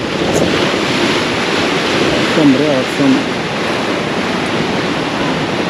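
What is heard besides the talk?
sea waves breaking on a Goa beach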